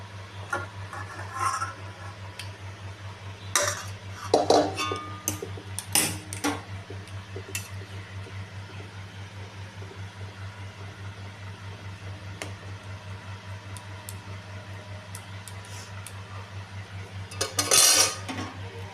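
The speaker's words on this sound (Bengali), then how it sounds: "আমি এখন এটাকে নামিয়ে দিচ্ছি।" A cooking pot of bhola fish in mustard and poppy-seed sauce is lifted off the stove, with scattered metallic clanks and scrapes of cookware over a steady kitchen fan hum and no talking.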